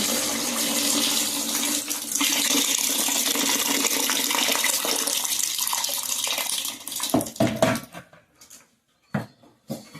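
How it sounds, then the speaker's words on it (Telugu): Soaked grains for dosa batter are washed in water, with a steady rush of running water and sloshing that breaks into a few short splashes and swishes near the end, close and without talk. "నేను మళ్ళీ ఇప్పుడు ఒకసారి రెండు సార్లు కడుగుతాను దోశ పిండికండి ఇది"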